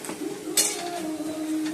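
Yogurt thinned with a little water is whisked in a bowl, producing brief close clinks and soft scraping of a utensil against the bowl over a short stretch.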